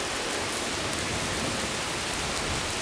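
Heavy thunderstorm rain pours steadily just outside an open door in Charlotte, a dense, loud, even hiss with no pauses and no voices.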